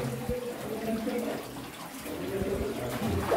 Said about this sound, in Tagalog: So dinadaanan to ng tubig mga kuha.